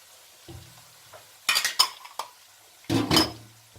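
Cumin seeds and onions frying and being stirred in a pan for Punjabi-style aloo matar, heard as three bursts of spoon scraping and clinking against the metal pan over a low, quiet sizzle, with no talk.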